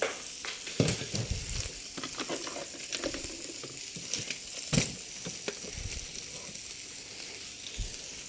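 Food frying in a pan with steady sizzling and crackle, scattered clinks and scrapes of stirring, at moderate level with no talk.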